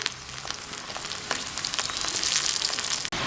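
Garlic frying in sesame oil, a close, even crackling sizzle that swells slightly, with a brief cut near the end and no voices.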